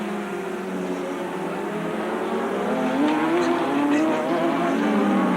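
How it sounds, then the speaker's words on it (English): Big red Yamaha road racing motorcycle at Sandown sweeping through a corner, a sustained engine howl whose pitch climbs as it accelerates past, moderately loud and steady, without talk. "The big red Yamaha of Murray Sale sweeping through Repco once again"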